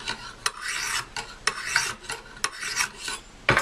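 A Habilis Bushtools Pathfinder trade knife drawn across a sharpener in repeated rasping strokes, about half a dozen close, crisp swipes in a steady rhythm with brief pauses between them.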